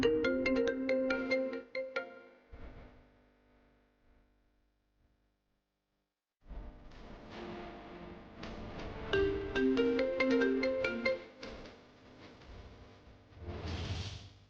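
A TV-serial phone ringtone plays a bright electronic melody, breaks into near silence for several seconds, then rings again loud and steady before a soft whoosh.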